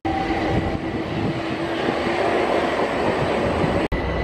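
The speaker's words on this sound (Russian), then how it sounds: "Вот видите, поезд поехал поверху, получается, между домами." An overground metro train rumbles past overhead between houses, close by, with a steady, loud rolling roar and clattering wheels, a faint tonal whine over it, continuing throughout.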